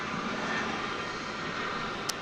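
A 1991 airliner from Louisville rolls on a runway at DFW Airport, its engines a steady, distant broadband roar that holds evenly throughout, with a brief click near the end.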